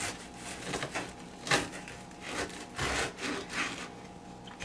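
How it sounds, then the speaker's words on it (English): A knife saws through the crisp crust of a white loaf baked in a bread machine, with repeated scratchy, crackling strokes, close and fairly quiet, with no talking. "You can actually hear the crust, how nice and crispy it is."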